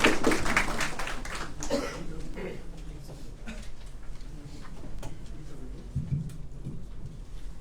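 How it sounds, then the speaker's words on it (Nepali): Audience clapping rises to greet a speaker at a Nepali community committee formation gathering, loud and dense at first and then thinning into scattered claps that continue through the clip. "कृपया जोरदार ताली बजाएर स्वागत गरिदिनु होला"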